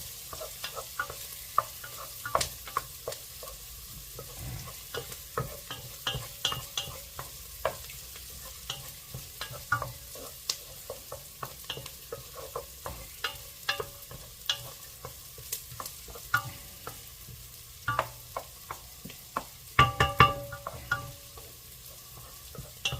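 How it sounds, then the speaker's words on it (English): Onions are sautéed in a pot and stirred again and again, giving a soft sizzle with frequent scraping and clinking stir strokes that come at an irregular pace, quite faint, and no one speaks. "You don't want to burn these onions, so just keep your eye on them and keep them moving."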